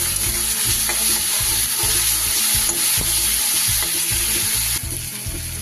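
Ginger garlic paste is stirred into an onion and tomato masala frying in a pan, giving a constant loud sizzle with repeated scraping strokes of the spoon at a steady rhythm.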